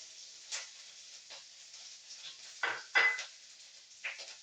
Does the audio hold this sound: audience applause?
no